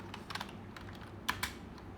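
Typing on a computer keyboard while coding in Python on a Raspberry Pi: a quick, uneven run of close key clicks with a couple of louder strikes, no voice.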